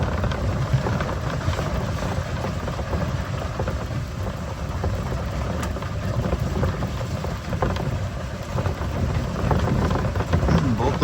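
Heavy rain pours steadily onto a loose gravel driveway during a thunderstorm, a dense, continuous roar with low rumbling underneath, sustained and close throughout.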